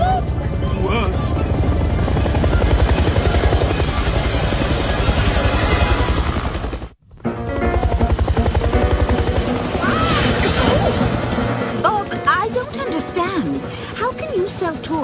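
A helicopter's steady rotor thumping and engine drone, loud and close, briefly cutting out midway before resuming, with voices talking over it.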